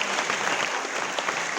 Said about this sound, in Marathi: टाळ्यांचा गजर करायचं